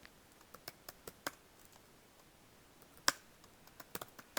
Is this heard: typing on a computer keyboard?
yes